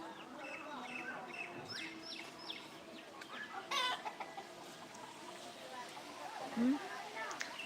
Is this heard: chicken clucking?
yes